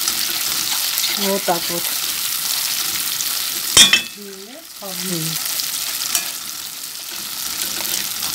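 Thick red tomato frying in a pan on a gas stove and being stirred, a steady close sizzle with scraping stir strokes; a voice speaks briefly partway through.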